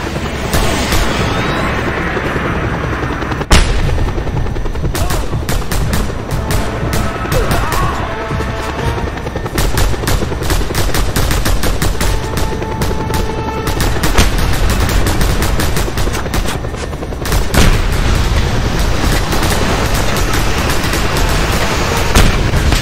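Sustained heavy gunfire from a helicopter in Just Cause 2 rattles on almost without pause, dense rapid shots layered with booming impacts and explosions, loud and close throughout.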